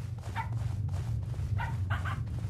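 Dogs in the horror video game Pacify give a few short yappy barks near a well, spaced out over a low steady hum of game ambience.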